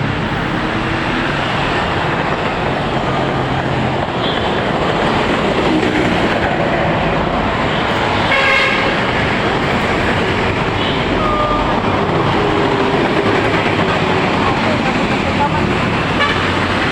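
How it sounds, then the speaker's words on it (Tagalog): An MRT metro train heading toward Ortigas produces a loud, steady broadband rumble and rush that continues unbroken for the whole stretch, with faint voices underneath. "Doon ako sumakay sa MRT pupunta sa Ortigas."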